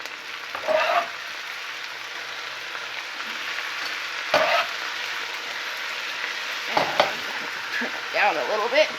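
Onion sautéing with beef steak in a pan for enchiladas, a steady, moderate sizzle and frying hiss throughout, broken by occasional stirring scrapes and soft clatter.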